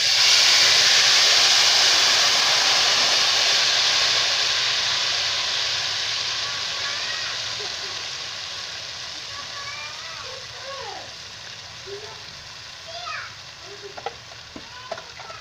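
Kadhi poured into a sizzling tempering of browned garlic and cumin, a loud close frying hiss that gradually settles into softer crackling and popping bubbles.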